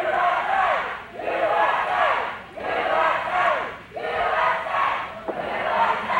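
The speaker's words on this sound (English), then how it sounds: "Crowd trying to get behind him." Wrestling arena crowd cheering and chanting in steady surging waves for a wrestler, loud and continuous with rhythmic swells, with no talk over it.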